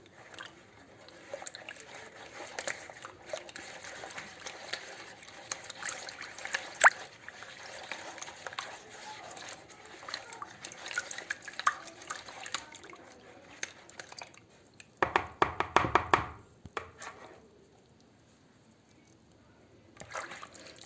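Hands mix a poğaça dough of warm milk and warm water in a bowl, giving soft wet squelching and dripping that is faint for most of the stretch and swells into a louder burst of sloshing near the end.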